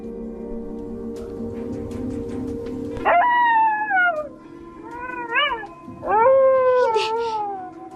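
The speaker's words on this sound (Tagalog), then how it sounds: "Yung mga aso, nag-uumpisa na namang umalulong" Dogs howl at night in a rural setting near a hut, long rising and falling wails breaking out in two loud bursts after a low droning start, with no speech.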